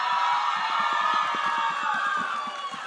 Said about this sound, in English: yet another loud round of applause for these wonderfully talented performers who truly set the stage on fire